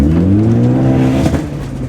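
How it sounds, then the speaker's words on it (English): A boosted Honda engine fitted with an external wastegate revs loudly and steadily up close, its tone climbing and then dipping slightly over a brief burst. "Oh yeah, I hear wastegate."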